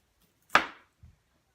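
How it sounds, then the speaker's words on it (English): A knife slices off the end of a sweet potato on a cutting board, one crisp sharp cut followed by a soft tap a moment later, close and clear in otherwise quiet surroundings. "I cut off the ends of the sweet potato"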